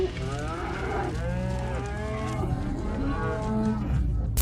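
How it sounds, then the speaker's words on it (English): Several cows moo near a house in West Virginia, long, drawn-out lowing calls overlapping one another, close and loud over a steady outdoor background. "He was just recording a group of cows"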